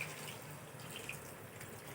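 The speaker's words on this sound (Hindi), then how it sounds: "अब 1 कप हम पानी डालेंगे" A cup of water is poured into potato gravy in a pan, giving a soft, continuous splashing and trickling sound, faint and steady with a couple of brief bright splashes.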